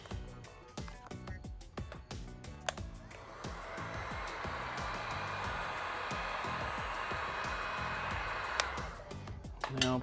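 A heat gun blows steadily for several seconds as it warms a vinyl graphics kit, its broad airy roar starting after some clicks and handling sounds and cutting off near the end.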